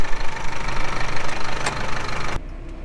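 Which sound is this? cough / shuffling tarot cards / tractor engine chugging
tractor engine chugging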